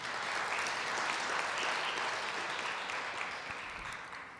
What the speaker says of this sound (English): Ladies and gentlemen, let us give them a round of applause again.